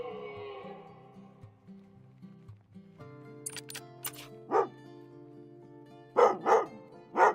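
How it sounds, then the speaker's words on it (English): A dog barks several times nearby in a room while a video game plays, sharp separate barks near the middle and a quick cluster toward the end over a steady game soundtrack with tones. "What are you doing, dog?"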